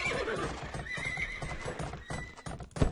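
In Age of Empires II, a horse whinnies and its hooves clip-clop at moderate volume amid game sounds, ending with a sharp louder burst.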